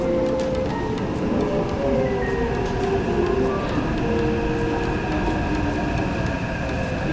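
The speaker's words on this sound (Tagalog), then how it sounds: "Padating na yung tren." Train pulling into a metro station platform in Taiwan, a steady loud rumble with squealing wheel tones and rail noise building throughout.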